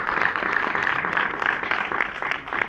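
Dense, continuous applause from an audience bidding farewell to a doctor after his address to workers at a pensions event, fairly loud and steady throughout the short stretch.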